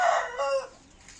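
Chickens clucking and crowing nearby, a short loud squawking call that quickly fades into quiet farmyard ambience.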